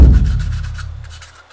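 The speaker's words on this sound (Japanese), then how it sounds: "まずは、800番ぐらいのヤスリで塗料が塗りやすいように" Sanding a Mini 4WD GR Yaris plastic body with 800-grit sandpaper to prepare it for spray paint, giving a short run of close, rhythmic rasping strokes that fades toward the end.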